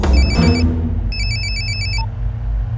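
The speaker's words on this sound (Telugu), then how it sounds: "వీడి సెల్ ఫోన్లో సూర్య నెంబర్ ఉంటుంది, కలిపి." A mobile phone rings after a number is dialed, giving a couple of short electronic beeps and then a patterned ringtone burst, heard close over a steady low background hum.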